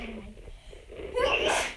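A single sharp sneeze bursts out near the end, close and fairly loud, after a stretch of quiet room noise during a spirit board session at home.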